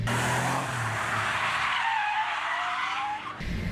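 A rear-engined Porsche's tires screech in a long skid, engine roaring underneath, the squeal sweeping and fading as the car slides and spins.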